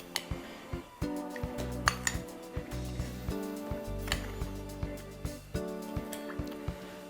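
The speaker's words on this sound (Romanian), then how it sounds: "Și acum pun așa, 4 linguri bune de sare." A spoon scrapes and clinks against a plastic container as heaped spoonfuls of salt go into cold water, a series of close, sharp taps and clatters repeating steadily with no talk.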